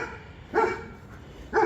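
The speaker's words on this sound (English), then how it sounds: "She barked for a second, then she came back." A German Shepherd barks twice outdoors during a training session, two single sharp barks about a second apart, fairly close and alone over quiet background.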